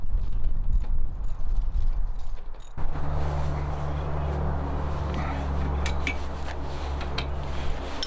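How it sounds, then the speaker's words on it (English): Bolts being tightened on a truck camper tie-down point: faint metallic clicks, then a steady mechanical hum starts partway through with ratcheting ticks over it. "I'll just tighten those bolts up and then I'm done."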